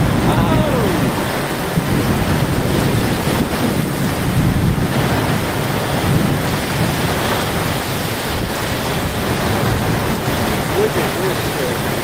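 A violent thunderstorm outdoors, with people stepping out of their homes, gives a constant loud roaring wash of wind and rain-like noise across the whole clip, with excited voices under it.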